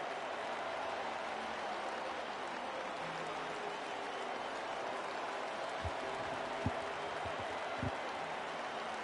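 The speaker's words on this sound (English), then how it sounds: "Mostly crowd noise here at this race." Steady, dense crowd roar fills a Bristol race in the Ruthless Racing Pro Series playoffs, with a few low thumps breaking through near the end and no voices.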